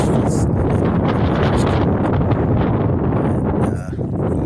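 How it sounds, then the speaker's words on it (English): Strong wind buffets the microphone outdoors while fishing near trees, a loud continuous rumbling roar that fills the whole stretch, easing only slightly at the end, with no voices. "the wind is kind of giving me fits"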